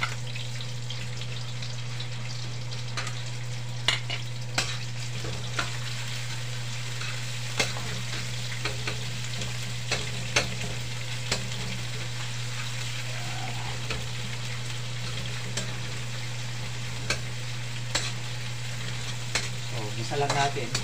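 Ground meat and onion fry in a pan with a steady, continuous sizzle, while a utensil stirs and scrapes the pan in scattered sharp clicks throughout, close up.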